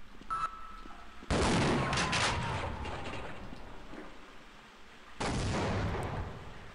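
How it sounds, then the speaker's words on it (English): Explosions and gunfire in the 1998 video game Half-Life: two loud, broadband blasts, the first rumbling on for several seconds with scattered crackling shots, then a second heavy burst near the end, with no voice. "Seems to be a lot of exploding."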